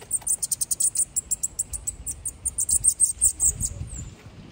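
Bananaquit (sibite) singing close by outdoors on a street, a rapid series of high, thin buzzy chirps in quick rhythmic bursts, with faint low background noise beneath.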